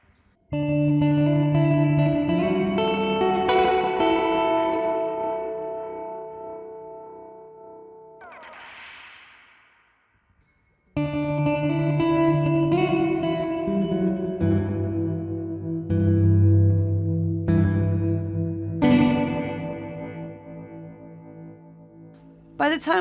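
Electric guitar chords through an Old Blood Noise Endeavors Bathing phaser pedal with depth turned up, a swirling, stuttering effect, notes rising and fading, with a short silent gap before the playing resumes.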